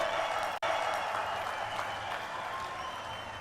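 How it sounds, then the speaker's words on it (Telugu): A large crowd at a public meeting applauds in a dense, steady wash of clapping with a momentary cut near the start, heard from a distance through a broadcast feed. "ఆంధ్ర రాష్ట్రం మొత్తం వినపడేట్టుగా గట్టిగా చప్పట్లు కొట్టి నరేంద్ర మోడీ గారిని"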